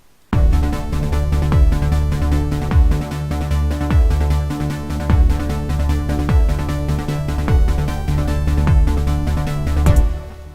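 An electronic track for the game Cally's Caves 3 plays at full volume with no low-pass filter, a steady, punchy beat, regular percussive hits and sustained synth chords spanning the full bright range.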